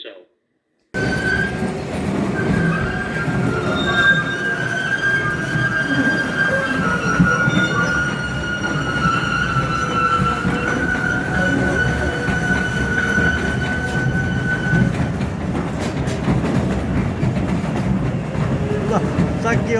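A mine tour train rolls along rails with a steady rumbling clatter and long high-pitched wheel squeals, close and continuous, while people talk faintly underneath.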